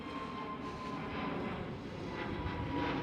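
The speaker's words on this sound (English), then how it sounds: "There goes yet again another KLM Airbus A321neo." A KLM Airbus A321neo jet passes at Amsterdam Schiphol airport, a steady moderate engine roar with broad rumble throughout the short stretch.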